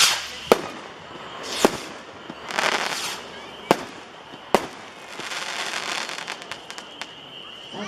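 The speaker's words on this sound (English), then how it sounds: "Okay, those are rockets." Stinger Rockets fireworks by Pyro Junkie launching outdoors: several sharp whistling launches and pops spaced a second or so apart, with crackling bursts in between that fade toward the end.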